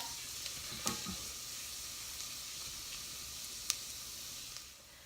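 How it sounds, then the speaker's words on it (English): Garlic, one clove, sautéing in butter in a pan over moderate heat gives a steady, soft sizzle, with a couple of sharp clicks of a utensil stirring it around. "we'll go ahead and saute the garlic"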